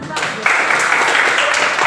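Applause from an audience in a classroom setting swells quickly into a loud, continuous wash of clapping that lasts for under two seconds.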